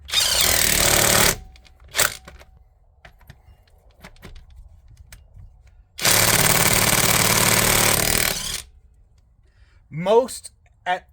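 A Geeveelife 1/2-inch cordless impact wrench rated at 640 ft-lbs hammers on a car lug nut in two long, loud, rattling bursts. Short clicks come between them and a voice is heard near the end.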